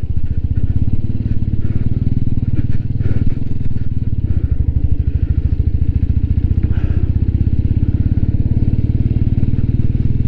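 A motorcycle climbs a rough, landslide-prone mountain road with a loud, steady engine drone and rapid thudding pulses heard close up throughout.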